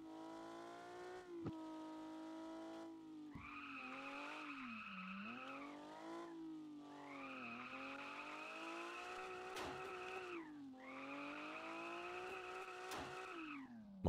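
A car tears along at speed in Car For Sale Simulator 2023, its engine droning steadily and climbing in pitch as it revs up, easing off between surges, with tire noise running underneath throughout.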